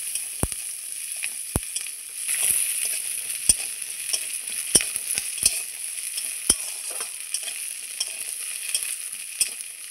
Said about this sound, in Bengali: ওই তেলেই আমি রসুনগুলো ছেড়ে দিচ্ছি। রসুনটাও ভেজে নেব